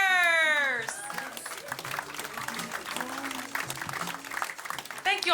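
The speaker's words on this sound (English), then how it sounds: "Please put your hands together for Kate Kremers." Audience applause at a live stand-up comedy show, a broad wash of clapping that swells loudly as a comedian is introduced and keeps going at a steady, busy level throughout.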